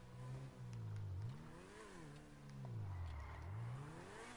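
A car engine in Grand Theft Auto Online revving up and down in broad, rising and falling waves, steady and close with no talk over it.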